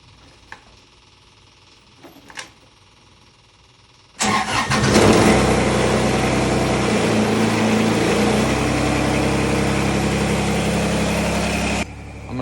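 Kubota BX tractor engine cranking and catching after a few faint knocks, then idling loudly and steadily close by for several seconds while warming up in cold weather before cutting off.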